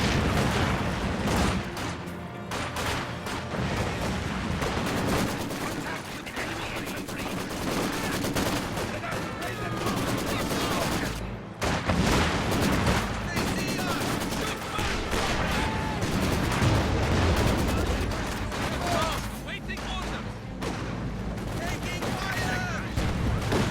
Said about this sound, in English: Here comes the fire on those Folks Grenadiers in the house.